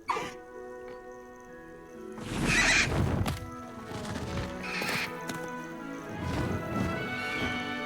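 A hippogriff in the video game Hogwarts Legacy giving several loud horse-like whinnies and snorts, with wing flaps and hoof clatter in between, set over soft game music.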